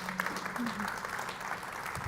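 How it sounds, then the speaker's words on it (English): An audience claps in a steady wash of applause at a Chery Tiggo 4 Pro car launch event, with a voice briefly audible over it. "Give her a huge round of applause."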